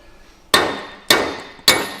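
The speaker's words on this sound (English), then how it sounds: "we gotta put a lug nut on there, smack it with a hammer, and drive all those studs out" Hammer striking a lug nut threaded on a wheel stud to drive the studs out of a rotor and hub assembly from a worn farm truck: three loud, sharp metallic blows, evenly spaced about half a second apart, each ringing briefly.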